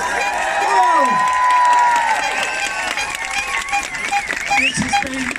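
Crowd at an outdoor Extinction Rebellion people's assembly cheering and whooping, a loud sustained roar of voices with shouts rising and falling, mixed with nearby talk.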